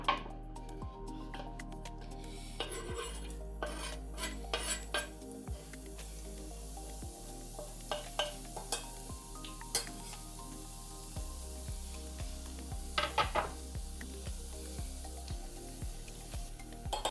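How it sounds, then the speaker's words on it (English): Shallot and garlic sauté in hot olive oil in a saucepan on high heat, a steady sizzle broken by metal clinks and scraping of a utensil against the pan, with no voices. "Heat 3/4 cup olive oil in a saucepan and sauté the shallot and garlic on high heat"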